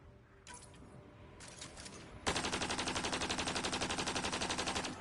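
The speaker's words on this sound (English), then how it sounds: "Let me see how this pistol shoot" Rapid automatic gunfire from a pistol in the video game Mass Effect: two short bursts of shots, then a loud, sustained stream of evenly spaced rounds that runs to the end, with no talking.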